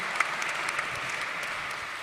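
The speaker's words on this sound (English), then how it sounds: "Give me an applause for this." Audience applause from a live-streamed event, a steady wash of many hands clapping at even volume for about two seconds with no talking.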